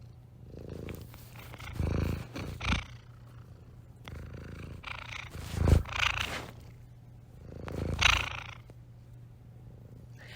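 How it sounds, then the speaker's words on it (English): A cat purrs steadily up close in a submitted recording, the rumbling purr rising and falling in several swells over about ten seconds, with no talking over it. "feel the vibrations of that cat purring into my ear right now"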